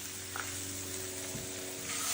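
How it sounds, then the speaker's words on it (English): A steady, crackling sizzle of Brussels sprouts charring in a hot pan, continuous and close, with faint clinks underneath. "Our Brussels sprouts, which are still sizzling"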